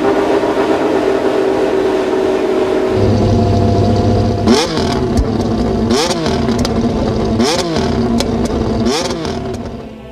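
Mercedes 2022 Formula 1 power unit, the engine also used by Aston Martin, McLaren and Williams, droning at a steady pitch, then revving loudly in four or five sharp, rising bursts that fall away again, close and alone.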